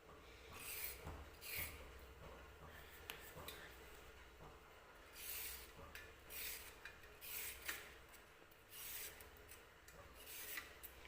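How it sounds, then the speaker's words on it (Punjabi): Carrots are peeled with a peeler for pickle, a series of close, quiet rasping strokes in irregular bursts with short pauses between, no talking. "ਧੋਣ ਤੋਂ ਬਾਅਦ ਹੁਣ ਇਹਨਾਂ ਨੂੰ ਛਿੱਲ ਲਾਂਗੇ"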